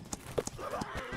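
A horse in the Holdfast multiplayer war game trots past with quick clip-clop hoofbeats and a short whinny, close in the mix over faint game ambience.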